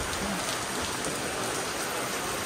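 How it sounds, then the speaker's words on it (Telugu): Heavy rain pours down at the hilltop Lambasingi view point, a dense, constant hiss of drops striking surfaces, loud and uninterrupted with no speech. "మా లొకేషన్లో వర్షం పడుతుంది ఫుల్గా."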